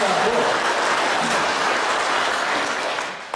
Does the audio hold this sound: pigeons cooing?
no